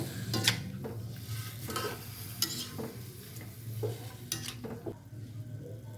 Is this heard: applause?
no